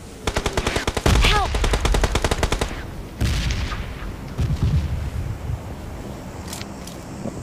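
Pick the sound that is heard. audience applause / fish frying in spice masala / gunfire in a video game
gunfire in a video game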